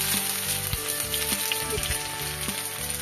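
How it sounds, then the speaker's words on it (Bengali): Onions and garlic fry in a pan, a steady close sizzle and crackle that runs throughout, with a few clinks from stirring. "এবার আবার একটু ভাজা ভাজা করবো, আবার পেঁয়াজটা রসুনটা হালকা লাল লাল হবে"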